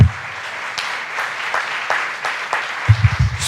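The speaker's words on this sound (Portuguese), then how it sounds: "Vamos aplaudir Jesus pela transformação na vida de Pedro." A church congregation breaks into sustained, fairly dense applause. The clapping holds steady throughout, with a few low thumps and murmurs near the end.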